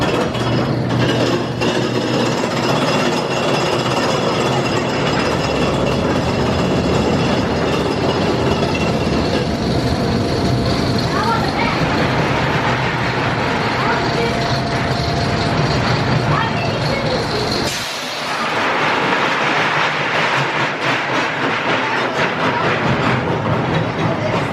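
Wilderness Run, a smooth-running kiddie roller coaster at Carowinds built by Ian F. Miller, rumbling steadily along its track with a clattering, train-like roar, a brief dip near the end, and some faint voices underneath.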